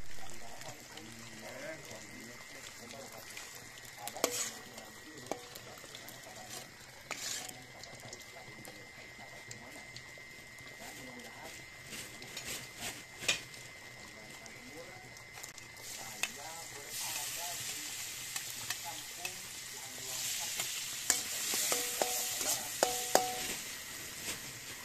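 Fish frying in a pan at a lakeside campsite, a soft ongoing sizzle with stirring clinks and scattered clatter, running under nearby conversation.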